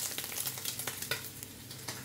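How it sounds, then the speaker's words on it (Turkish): Pieces of meat frying in hot oil in a pan, a dense, steady sizzle with crackling pops and spatters, close and fairly loud, with no voices. "Böyle yağ yani et kızartıyorum."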